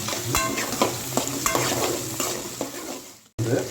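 Curry leaves fry in hot oil for a dry-fried mutton dish, with a loud, steady sizzle close by and spoon-stirring scrapes throughout, then a brief cut before the sizzling resumes.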